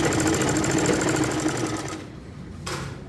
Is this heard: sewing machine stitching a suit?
yes